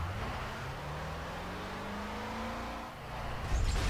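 A Duramax pickup truck engine in Garry's Mod drones along off-road, pitch wavering as it revs, with a brief dip and a louder bump near the end; steady and moderately loud throughout.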